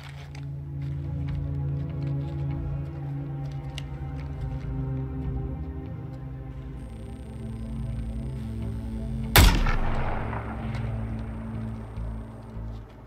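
A single sharp gunshot cracks out loud and close in a Suicide Squad: Kill the Justice League boss fight against Lex Luthor, its reverberant tail fading over a steady low droning score and ambience, with no voices.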